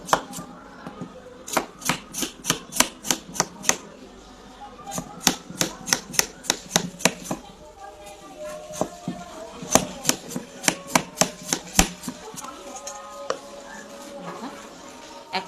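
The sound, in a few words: peeling pointed gourds (potol) with a knife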